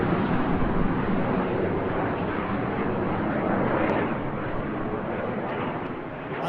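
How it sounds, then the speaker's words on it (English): Display aircraft at the Eastbourne International Airshow turning hard at up to 6 G, a loud, continuous broadband jet roar that holds steady throughout with no pause and no voices. "Each aircraft now turns hard, up to 6 G away from each other"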